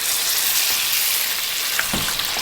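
Chicken karahi masala frying hard over a full flame in a karahi, a loud continuous sizzle with occasional stirring scrapes, no voices.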